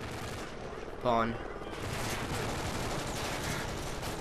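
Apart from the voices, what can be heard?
gunfire in a video game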